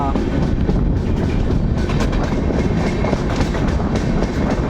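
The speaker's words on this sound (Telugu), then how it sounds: "చీరాల ప్లాట్ఫామ్ నెంబర్ 3కి అయితే మన ట్రైన్ అయితే వచ్చింది." The Pinakini Express rumbles steadily close by as it arrives at platform 3 of Chirala station, with rhythmic clattering of wheels on rails and a constant loud roar.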